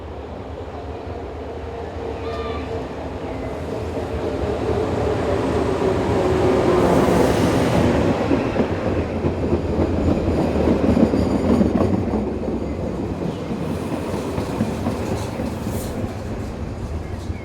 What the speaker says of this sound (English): Approaching the camera on the evening of Sunday the 23rd of June 2013 is BB 17091 on one of the frequent local services between Pontoise and Crest